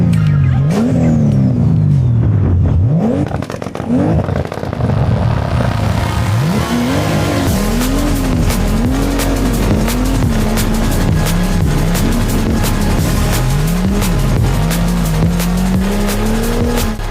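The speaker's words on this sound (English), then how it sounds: "Start the engine." A BMW with an M54B30 engine starts and revs hard on a snowy road, the engine note rising and falling repeatedly while tires squeal and spin, loud and close with no talk.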